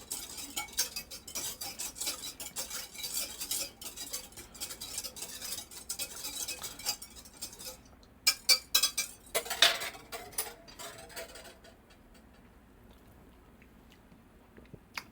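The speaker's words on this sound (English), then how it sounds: "And we'll stir that again." A spoon stirring beet tonic sweetened with honey in a jar, rapid clinks and scrapes of metal on glass in bursts, then a few sharp taps before falling quiet, close and without talk.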